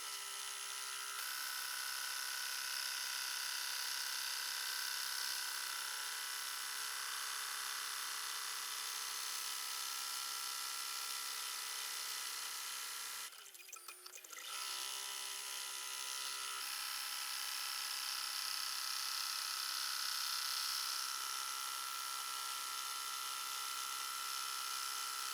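Embroidery machine running a satin stitch in the hoop, a steady high-pitched whirring drone that continues for a long stretch, broken by one brief pause near the middle.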